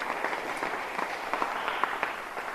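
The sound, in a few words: audience applause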